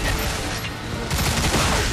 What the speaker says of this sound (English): Under the sound of gunfire.